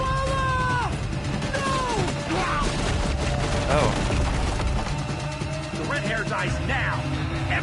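Dense in-game gunfire rattles continuously in a fantasy action game, with crashes and impacts mixed in, and voices and game sounds layered over the loud barrage.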